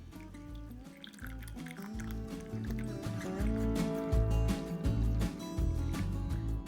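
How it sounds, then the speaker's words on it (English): Dandelion lavender herbal tea is poured from a pot with an internal strainer into a cup, a gurgling, bubbling stream that swells louder as the cup fills over several seconds. "So we'll just pour this in."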